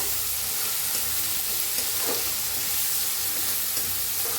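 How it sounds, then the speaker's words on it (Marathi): Onion and tomato frying in a pan, a soft continuous sizzle and hiss with faint stirring movement, close by and fairly quiet, with no voices. "कांदा छान भाजायला आलाय त्याच्यात टाकूया टमाटर सर्व छान भाजून घेऊया"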